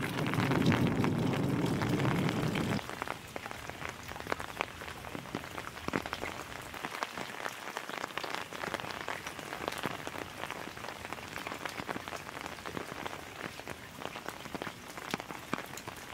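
Steady rain pattering on a hard surface, with scattered louder drips; a heavier, lower rush fades out after the first few seconds.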